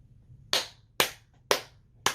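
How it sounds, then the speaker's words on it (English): One person claps slowly by hand, four crisp, evenly spaced claps close to the mic in quiet surroundings, with no talking. "Just a moment of applause for that bit."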